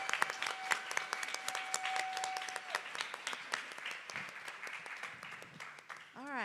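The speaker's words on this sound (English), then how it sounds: "let's give these presenters a big round of applause." Conference audience applauding presenters with a steady patter of many hands, fairly faint and distant, fading out toward the end as a voice begins speaking.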